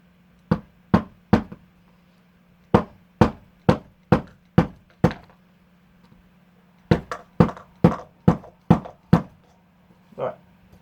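Sharp hammer blows strike in quick bursts of several hits, with short pauses between bursts, over a faint steady hum; one softer knock follows at the end.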